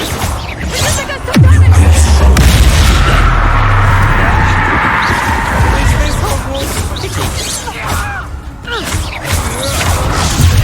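An Expelliarmus spell is cast in the Hogwarts Legacy video game: a sudden loud blast erupts, then gives way to a sustained roaring, rumbling wash of magical energy with scattered crashes throughout.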